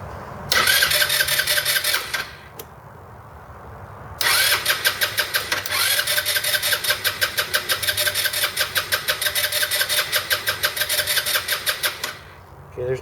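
Small Roketa scooter engine cranking on its electric starter with the fuel line detached, a fast rhythmic whirring chug in two long bursts separated by a short pause, close and loud, never catching.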